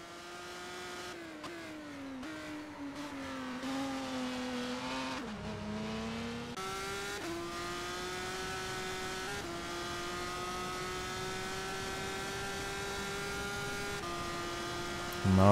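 A race car engine holds steady and high on a sim racing lap around Dubai, with gear shifts stepping the pitch down and back up, loud and close throughout with no talk.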